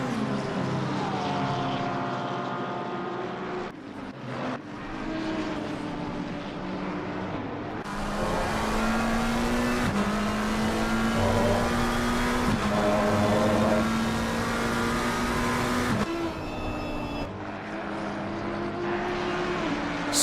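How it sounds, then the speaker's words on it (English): GT3 race cars roaring along the start-finish straight at Imola in sim racing: several engines drone and rise in pitch as the pack passes close, with steady loud overlapping engine tones and gear changes throughout. "both drivers now coming through the start-finish straight, crossing the finish line, and a gaggle of GT3 cars behind them still fighting for position"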